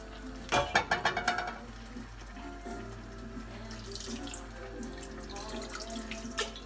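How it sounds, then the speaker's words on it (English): Water runs from a tap into a cooking pot for goat curry in a home kitchen, a short splashing burst, then a softer steady trickle with faint kitchen clatter underneath. "Or add in just a little bit of water, which I'll do now."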